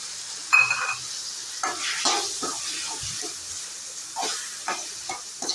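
Chopped onions and tomatoes sizzle in hot oil in a pan for tomato rice, with a steady frying hiss and a few stirring scrapes, close and with no talk.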